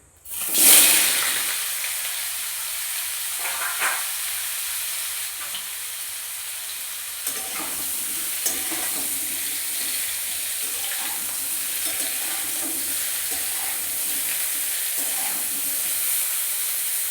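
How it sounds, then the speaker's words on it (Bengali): A steady sizzle of young jackfruit frying in hot oil, with a sharp burst at the start and faint clinks and stirring sounds scattered throughout. "আর এই তেলের মধ্যে এঁচোড়গুলো ভেজে নেব।"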